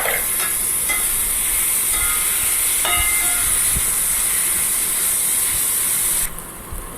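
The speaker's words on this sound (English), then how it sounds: "Time now to add the tomatoes." Tomatoes go into a hot pan for a paneer, carrot and peas curry, setting off a loud continuous sizzle with a few clinks of utensils, the hiss dropping away abruptly near the end.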